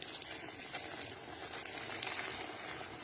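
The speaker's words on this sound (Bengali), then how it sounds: "দেওয়ার পরে আস্তে আস্তে কিন্তু ভাজা হয়ে যাচ্ছে" Semolina sweets fry in hot white oil in a wok, giving a soft, continuous sizzle and crackle at low, even volume with no speech.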